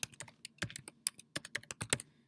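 Rapid, uneven typing on a computer keyboard while entering a search term, a close, crisp run of key clicks for about two seconds with no talking.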